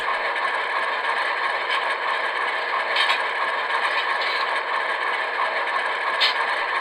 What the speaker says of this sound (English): Function 3 is coupler crash.